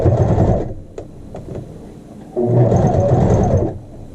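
A sewing machine runs edge stitching along an understitch on a child's shirt back neck facing, whirring in two loud sustained bursts with a quieter slower stretch of stitching between them.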